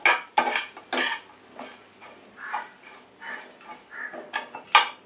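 Roasted spice mix for a prawn masala gravy stirred in a pan, a spoon scraping and knocking against the metal in uneven clatters, close and fairly loud, no speech.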